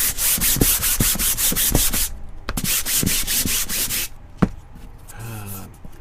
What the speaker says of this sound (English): This is 220 grit sandpaper.